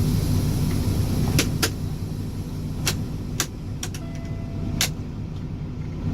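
A manual-transmission car drives with a steady low engine hum inside the cabin, broken by several sharp clicks and knocks from the controls as it moves along.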